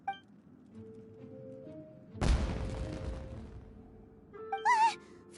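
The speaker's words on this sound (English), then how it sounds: "It sounded like fireworks." Fireworks in Genshin Impact go off as one sharp boom that rolls into a sustained crackling burst, then fades, with faint whistling tones rising near the end.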